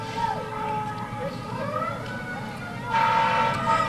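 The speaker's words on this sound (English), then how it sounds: "We're going to wait till this fire engine slows down its siren just a little bit." A fire engine siren wails nearby during an outdoor holiday parade, rising and falling steadily, then blaring louder near the end over a background murmur.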